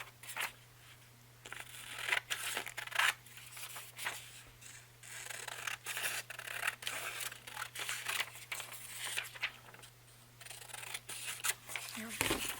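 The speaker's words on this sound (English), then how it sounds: "I'm just cutting off the edges" Scissors snip away the edges of a printed book page in a steady series of close crisp cuts and rustles of paper, while a person talks throughout.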